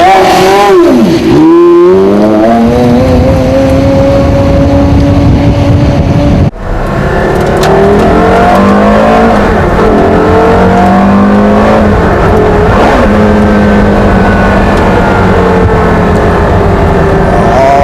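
A race car pulls away and accelerates hard, engine revs climbing through several gear changes, loud and close, with a sharp break partway through before the engine note rises again.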